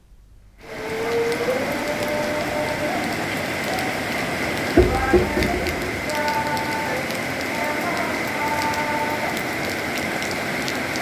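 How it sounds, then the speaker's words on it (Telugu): Heavy monsoon rain in Medak district, with the Haldi stream in flood, makes a steady, dense roar of falling water and rushing flow that runs throughout, with a brief clatter near the middle. "మెదక్ జిల్లాలో కురుస్తున్న భారీ వర్షాలకు హల్దీవాగు ఉధృతంగా ప్రవహిస్తుంది"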